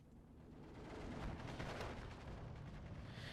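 Artillery fire in the wartime strategy video game Steel Division 2, a dense rumbling barrage of overlapping booms and gunfire that swells and holds at a fairly even level before easing slightly.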